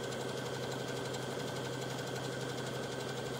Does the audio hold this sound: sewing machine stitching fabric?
yes